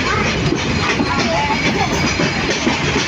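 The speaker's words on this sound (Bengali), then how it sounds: "ট্রেন যাচ্ছে তাই" A train passing nearby near the Hili border, a steady dense rumble and rattle of rolling wagons, loud and close throughout.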